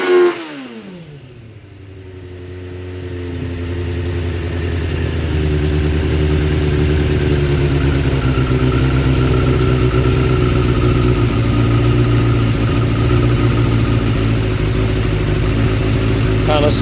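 A 2006 Suzuki GSX 600F Katana with a carburetor problem starts loud and high, then its engine note sinks and settles into a steady, rough idle that drones on close by.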